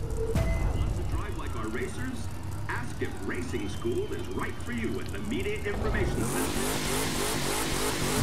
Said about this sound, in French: comme dans toutes les courses de drague, on fait chauffer le pneu, enfin les pneus